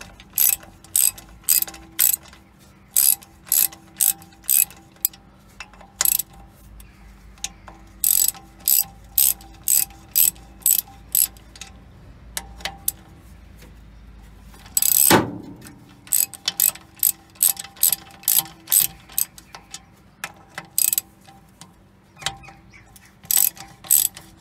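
A hand ratchet clicks in quick bursts while bolts come off the water pump of a 1968 Dodge Charger, the clicking coming in repeated close runs split by short pauses, with a metallic clunk midway.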